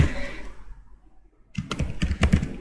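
Typing on a computer keyboard, quick clustered key clicks close by, a pause of near silence, then a dense burst of loud, rapid keystrokes.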